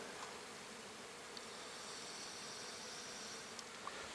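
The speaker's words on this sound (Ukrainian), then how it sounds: "гул бджоли здається якимсь зловіщим" A steady, soft hum of honeybees buzzing continuously at an apiary beside yellowed rapeseed fields, faint and somewhat distant, with no voices.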